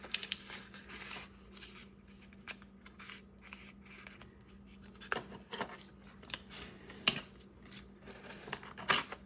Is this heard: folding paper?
yes